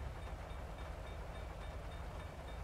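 A train pulls in within the GTA 5 video game, heard as a steady, even rail rumble with a faint high whine above it and no voices.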